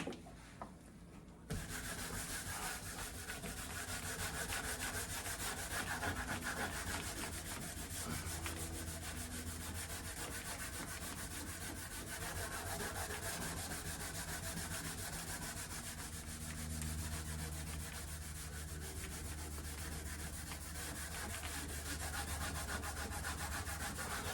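A scouring pad scrubs chemical stripper off a fiberglass door. The rasping scrub runs continuously and fairly quietly after a brief pause at the start.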